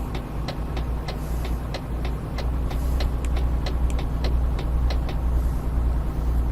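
Low, steady diesel drone of a Mercedes-Benz Actros MP3 Megaspace truck engine lugging at low RPM in Euro Truck Simulator 2, with a continuous rumble and faint regular ticking clicks above it, no talk.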